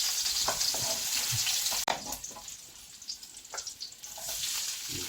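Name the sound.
garlic sautéing in a pan for pasta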